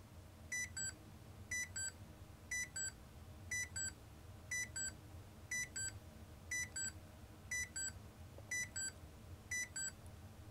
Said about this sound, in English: that is how Mario Cement Factory will wake you up in the morning